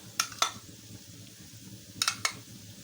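Red-coloured macaroni is mixed in a pan, with two pairs of sharp metallic clinks from a utensil striking the pan over a quiet background.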